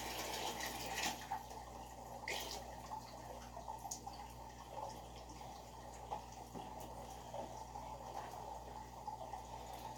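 Aquarium water being siphoned from a 75-gallon tank, a steady faint trickle and drip of flowing water with a low hum underneath, continuous and alone.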